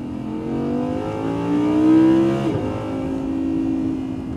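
An Audi R8 engine revs up in rising harmonic sweeps, climbing to a peak, dropping briefly, then rising again. The exhaust note is loud and close, with no talking over it.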